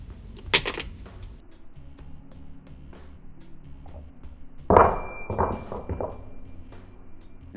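A nail fired from a homemade magnetic cannon hits a target, giving a sharp metallic clink early on, then a louder cluster of clanks and rattles later against a faint hum.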